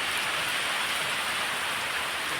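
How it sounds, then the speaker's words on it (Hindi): Heavy rain pouring down outside a house, a loud dense steady hiss of drops striking surfaces, continuous with no talking. "देखो बारिश हमारे यहाँ आ गई है"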